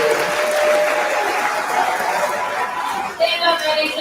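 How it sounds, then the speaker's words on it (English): Audience applause at a high school graduation ceremony for the class of 2023, honoring National Honor Society members; steady, dense crowd clapping throughout, with some faint voices and cheering mixed in near the end. "as we applaud their academic success and service to their school community"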